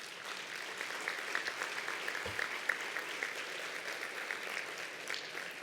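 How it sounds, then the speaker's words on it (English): Audience applause at a research conference session, a steady, dense wash of many hands clapping at moderate distance, sustained evenly throughout with no voices. "give this large group of people on this slide a big round of applause"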